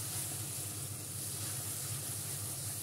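Pigeon meat sizzles in a pan as it is sautéed with spices, giving a steady, close, continuous hiss and crackle with no talking.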